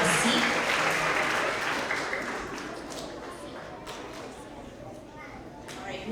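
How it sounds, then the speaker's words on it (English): An audience of families and children claps at a K–2nd grade school award assembly, loud at first and then thinning into scattered claps, while a voice speaks over it. "let's give a round of applause for all of our TK and kindergartner Tigers of the Quarter"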